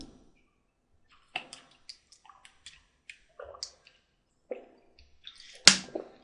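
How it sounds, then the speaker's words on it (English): Someone sipping water close to a microphone: scattered soft wet clicks and small slurps in near silence, then one louder gulp near the end. "sorry for the water noises. Once in a while I just need to sip some water"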